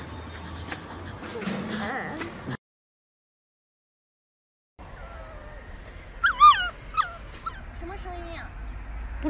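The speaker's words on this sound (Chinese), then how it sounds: "我听着像狗叫。" A Pomeranian puppy whimpers and yips up close: soft whining, then a silent gap, then a burst of high, wavering whimpers and sharp little yips.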